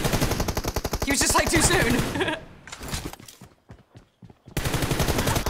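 Rapid gunshots and machine-gun bursts from a shooter video game crackle densely at first, then thin into scattered shots and go quiet before firing resumes, with voices commenting over the action.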